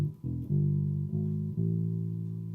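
A bass guitar plays a short sequence of sustained low notes for a worship song tutorial, each note plucked cleanly and ringing out alone in a quiet room.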